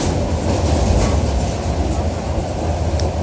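A Myanmar passenger train running from Golden Rock to Yangon gives a loud, steady rumble with low wheel and rail noise, heard close from inside a carriage with faint clatter and no talk.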